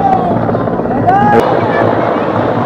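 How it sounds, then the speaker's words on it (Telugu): A helicopter carrying Prime Minister Modi lands at Ayodhya during the Ram temple consecration, its loud, steady rotor and engine roar filling the scene while people talk over it. "మోడీ గారి హెలికాప్టర్ ల్యాండ్ అవుతుంది."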